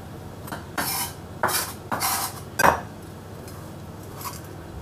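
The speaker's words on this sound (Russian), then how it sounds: "Мы сейчас этот лук перекладываем" Chopped onion is scraped into a metal saucepan with a few sharp clinks and scrapes of utensil on metal, four or five distinct bursts spaced about half a second apart, close and fairly clear.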